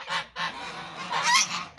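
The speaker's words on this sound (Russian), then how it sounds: "Гусики тут кричат, что-то возмущаются." Several geese honk loudly and close by in a farmyard, letting out repeated agitated calls in short bursts with brief pauses between them, and no one speaks.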